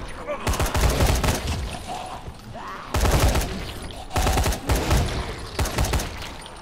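Gunfire in the video game Dying Light comes in several loud bursts of rapid shots separated by short gaps, with the last burst the briefest.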